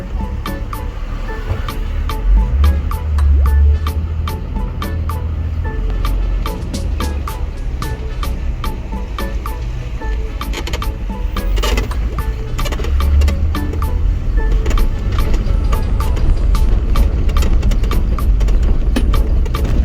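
A heavy Jeep tour truck engine rumbles steadily and loudly throughout, with low droning and some clatter, as if heard from inside or beside the truck, on Grand Turk Island.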